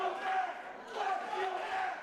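The crowd at a pro wrestling show roars continuously with mixed shouts and chanting voices. The noise swells and dips in a dense, echoing arena wash.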